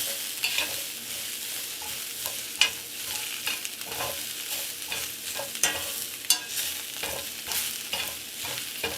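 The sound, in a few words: stir-frying vegetables for Mongolian beef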